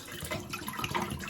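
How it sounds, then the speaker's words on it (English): Water pouring out of a worn 750 milliliter smart water bottle being emptied, a steady close splashing gush that runs the whole time with no voices. "Dump the water out that's in it."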